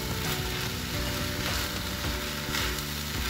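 Chicken spring roll stuffing sizzling in a hot pan while being stirred, a steady dense crackle with soft scraping from the spoon throughout, close and continuous with no voices.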